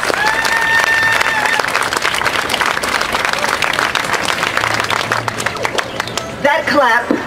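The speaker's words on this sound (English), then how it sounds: "That clap was for yourselves" A large crowd at a Palm Sunday rally in Brisbane applauds in a sustained, dense wash of clapping, loud and close, with crowd voices mixed in and a voice starting to speak near the end.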